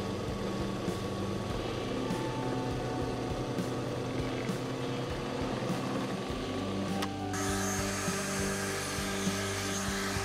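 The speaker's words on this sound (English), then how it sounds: "let's drill out these remaining holes" A power drill bores out holes in a Telecaster guitar body, giving a steady whirring motor drone for about ten seconds that shifts in pitch partway through as the bit cuts, close up and without talk.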